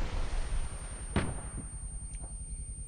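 A rocket hit in the military video game ArmA 3, a single sharp blast at close range followed by a fainter secondary crack, over steady rumbling background noise.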